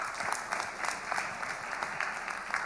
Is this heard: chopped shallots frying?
no